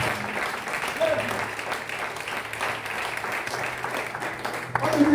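Church congregation applauding to acclaim the Lord, a steady crowd clapping sustained for five seconds with voices and a low hum underneath.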